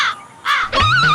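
A crow caws twice in quick succession outdoors, the harsh calls loud and near with a short gap between them.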